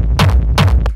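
Distorted industrial techno kick drum before a limiter, two heavy booming thumps about 0.4 seconds apart with gritty saturated attacks and a droning low tail, loud and close.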